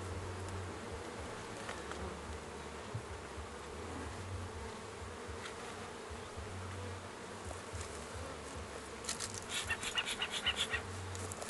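Honey bees buzz steadily and continuously around an open beehive during a December hive inspection, a dense, close insect drone with louder passing buzzes near the end and no talking.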